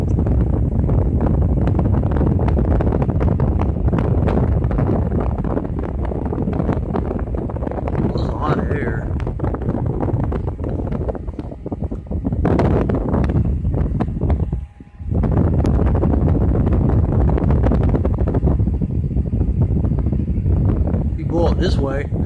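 A battery-powered O2 Cool Treva portable fan blows near the microphone, making a continuous gusty rush and buffeting with a brief dropout partway through. A person talks over it.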